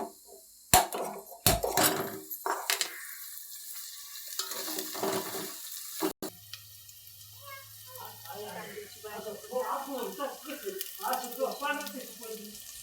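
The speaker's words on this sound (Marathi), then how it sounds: "ढोबळी मिरची, कोबी किसलेला सगळं परतून घ्यायचं." Chopped capsicum and grated cabbage being stirred and sautéed in a pan for a vegetable Manchurian, with soft sizzling and intermittent scraping and clatter of a spoon, while a voice speaks over it.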